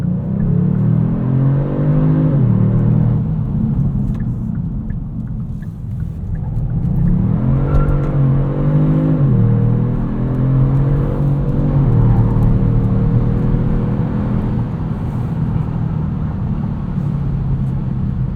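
A 2022 Kia Stinger GT2 AWD V6 engine revs up hard on an entrance ramp and climbs through the gears, loud and close, with rising whine and steady road rumble throughout.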